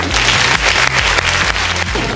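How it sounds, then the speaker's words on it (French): An audience at La Thionvilloise 2018, a charity event, bursts into loud, dense applause with many hands clapping together throughout. "Et je pense qu'on peut applaudir le plus fort possible."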